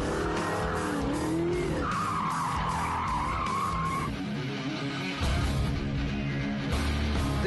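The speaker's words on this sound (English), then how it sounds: "Sideways in the Corvette, laying down some black track." A Corvette slides sideways around an off-camber autocross course, its tires squealing loudly and continuously in long wavering howls over the engine's roar, with no talk.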